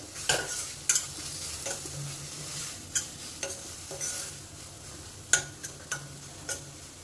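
Broccoli sabzi with chopped coriander being stirred in a pan, spoon scraping in scattered clicks and scrapes over a faint, steady sizzle, with no talking.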